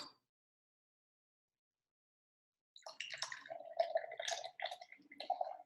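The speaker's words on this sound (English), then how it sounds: "I'm going to actually pour it into this cup" Thick liquid chocolate pudding poured from a container into a cup, a close, wet glugging and trickling that starts after a stretch of silence and runs on in uneven splashy bursts.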